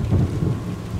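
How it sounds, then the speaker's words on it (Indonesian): Heavy rain pours steadily, with a deep rumble of thunder rolling beneath it throughout a short, loud stretch. "Hujan semakin deras."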